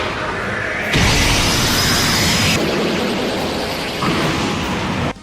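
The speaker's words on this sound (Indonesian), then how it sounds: "Lalu Vegito menciptakan super Kamehameha yang dengan cepat dia tembakan." A Kamehameha energy blast from the Dragon Ball anime is a loud, sustained roaring rush of noise lasting several seconds, with an abrupt surge near the start and a sudden cutoff at the end.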